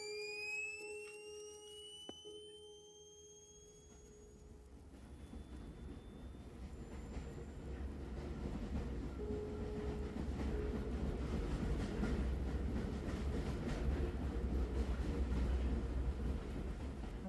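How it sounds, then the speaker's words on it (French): A rail wagon arrives in the video game Close to the Sun: a few bright chime tones give way to a low rolling rumble that builds from about five seconds and holds steady and close, with no talk. "Tirez le levier pour appeler le wagon évacué."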